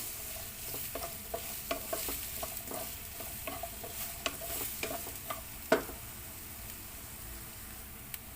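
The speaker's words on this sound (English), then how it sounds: "first we have to put our onion. And just saute until it gets translucent" Onion sautéing in a pan gives a soft, steady sizzle broken by frequent light clicks and scrapes from stirring, heard close but fairly quiet, with one sharper knock partway through and no speech.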